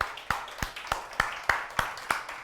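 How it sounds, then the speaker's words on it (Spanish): A church congregation gives a welcome applause, heard here as sparse, evenly spaced single claps, about eight sharp hits in a steady rhythm, fairly faint. "Vamos a darle un cordial aplauso para ellos de bienvenida"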